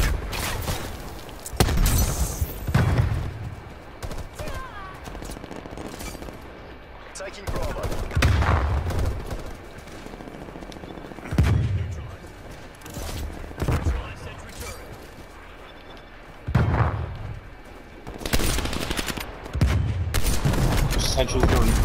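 Sentry gun in Call of Duty Black Ops Cold War multiplayer firing in repeated loud bursts of rapid gunfire, separated by short gaps, with players talking over the shooting.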